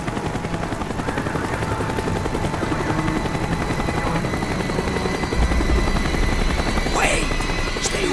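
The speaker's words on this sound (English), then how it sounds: "The chopper is coming around again." A helicopter in Call of Duty: Black Ops circles close by with a loud, continuous rotor thrum. Bursts of gunfire and other game effects mix in beneath it.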